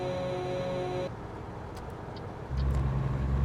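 Cars racing along a road in the American Truck Simulator video game, with steady engine and traffic roar that swells louder near the end as a vehicle closes in.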